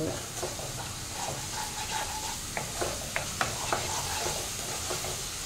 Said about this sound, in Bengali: ভালো করে মিশিয়ে নিয়ে এটাকে ভালোভাবে কষাবো